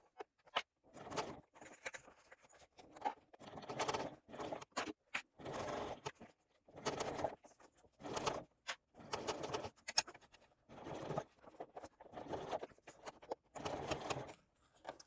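A sewing machine stitching single fold binding onto fabric, quiet bursts of rapid mechanical stitching with pauses and handling noise between runs.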